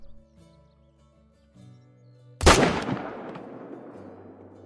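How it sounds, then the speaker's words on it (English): A single loud hunting rifle shot in Call of the Wild during a turkey hunt cracks out sharply and rolls away into a long fading echo, after a quiet stretch of soft ambient outdoor tones. "I think we're going to try and take a shot."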